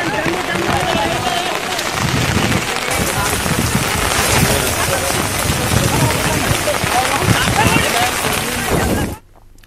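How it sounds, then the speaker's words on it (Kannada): Heavy, steady rain pounding down in Raichur district, a loud continuous hiss and patter that holds for about nine seconds before cutting off. "ರಾಯಚೂರು ಜಿಲ್ಲಾದ್ಯಂತ ಕಳೆದೆರಡು ದಿನಗಳಿಂದ ಧಾರಾಕಾರ ಮಳೆಯಾಗ್ತಿದೆ"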